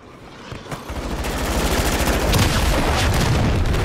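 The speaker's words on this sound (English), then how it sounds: "launched a cruise missile" An in-game cruise missile strike in Modern Warfare 3 multiplayer team deathmatch, a swelling roar of explosive rumble and crackling gunfire-like bursts that grows louder and stays dense to the end.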